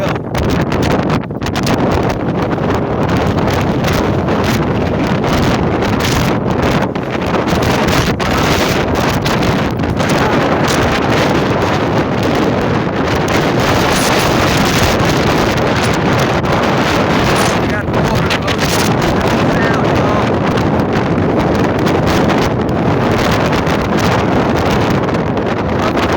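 High winds on the Outer Banks buffeting the microphone with loud, continuous roaring gusts over rushing water, unbroken throughout with no pause.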